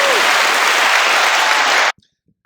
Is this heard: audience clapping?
yes